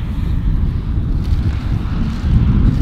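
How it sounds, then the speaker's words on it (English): Strong wind roars and buffets the microphone in a continuous low rumble, with no voices. "it's gray, and it's windy"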